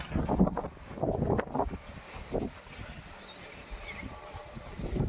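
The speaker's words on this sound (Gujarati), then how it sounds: "આજ તો બહુ પવન નીકળી ગયો જોરદાર આજે તો ઘણો પવન હે" Strong wind buffets the microphone in low, rumbling gusts that rise and fall throughout, with a faint hiss of rustling in the background.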